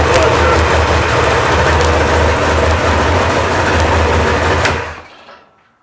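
A Chevy 468 big block V8 runs on an engine stand, a loud steady rumbling idle close by that cuts off abruptly near the end and fades to silence.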